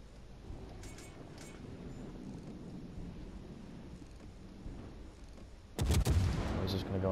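Warship guns firing in World of Warships Legends: a sudden loud broadside blast with a deep boom near the end follows a steady low rumble of engine and sea.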